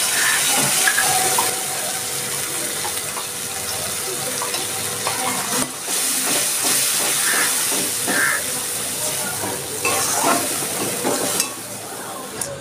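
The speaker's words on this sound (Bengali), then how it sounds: "আমি এবার মশলাটা ঢেলে দিচ্ছি" Spice paste for an okra and yogurt curry going into a hot pan with onions, giving a steady close sizzle and hiss with light stirring scrapes throughout.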